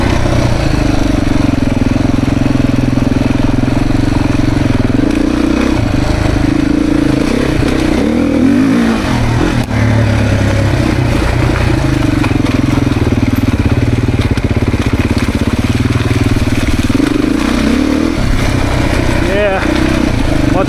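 Beta dirt bike ridden in second gear on a demo trail ride, its engine droning loud and close with wavering revs, and a rider talking over the noise.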